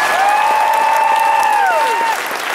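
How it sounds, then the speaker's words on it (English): Closing-ceremony crowd at the Kitacon 2012 convention, sustained dense applause filling the room, with a few loud cheers or whoops rising over the clapping and easing near the end. "Another big round of applause,"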